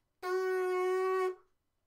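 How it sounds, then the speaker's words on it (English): Buzzing lips producing a single sustained brass-like tone, about one second long, close and fairly clear, alone in quiet surroundings. "you buzz your lips, like, and then make a spitty, farty sound like this"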